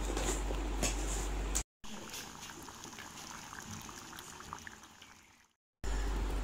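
Poori potato masala gravy simmering in a pan, a steady bubbling, liquid sizzle close by, broken by two short gaps.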